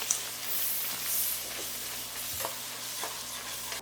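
Mushrooms and allspice roast in a pan for a creamy chicken and mushroom sauce, giving a steady close sizzle broken by soft scraping stirs.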